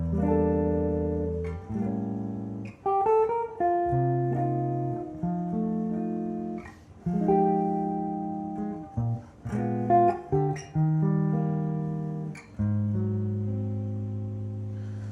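The opening eight bars of a jazz standard are played as sustained chords and melody notes, moving through smooth changes at a moderate pace, clear and unaccompanied by speech.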